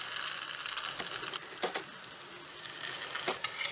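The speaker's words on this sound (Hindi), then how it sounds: "मैं इसको अभी मीडियम फ्लेम पे सेक रही हूँ" Veg seekh kebabs frying in oil in a pan over a medium flame, a soft continuous sizzle with a few sharper crackles and pops, close and alone.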